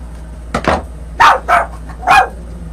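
A pet dog barks indoors in a home, giving four sharp, loud barks in quick succession close to the listener, with no talking over them.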